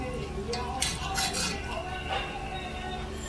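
Pork carnitas frying in their own fat inside a pot, a soft steady sizzle with metal utensil clinks and stirring scrapes close by.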